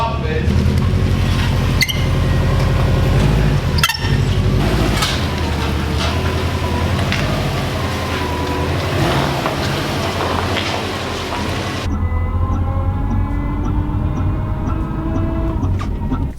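Noise from the right rear wheel of a Subaru WRX whose wheel speed sensor may be damaged: a loud, steady rumbling drone with rhythmic knocks, heard up close throughout, its character shifting near the end.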